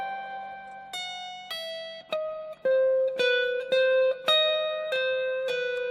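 Electric guitar picks out a high fretted run with pull-offs, a string of distinct notes that get quicker and denser, close and clear with no talk.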